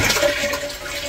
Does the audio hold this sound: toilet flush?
yes